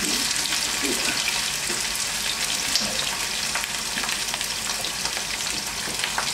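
Onion fries in a pan for a pasta with vegetables and prawns, a dense, steady sizzle with crackles and occasional stirring scrapes, close and fairly loud throughout, with no voices.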